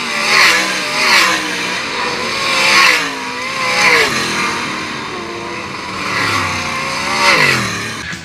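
Sprint cars race at Attica Raceway Park during the 2023 Brad Doty Classic. Loud engines howl and rev as cars sweep past one after another in repeated surging waves, with the pitch bending on each pass.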